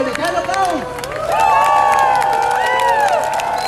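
A crowd at a street demonstration in Stuttgart applauds and cheers, with loud, dense clapping swelling after the first second and continuing under shouted voices.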